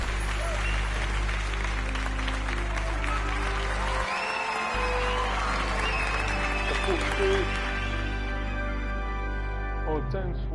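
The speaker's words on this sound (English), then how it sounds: "Oh, thanks for the applause." Crowd applause in the Hogwarts Legacy video game, a steady wash of clapping that holds for about ten seconds over a game music bed, with a brief dip partway through.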